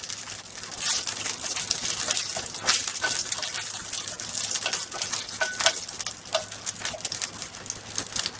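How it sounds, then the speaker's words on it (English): Water poured into a pan of roasted cumin seeds during potato dumpling cooking, a steady gushing splash with crackly sizzle and patter running continuously at moderate loudness, no talking. "going to add this water to it"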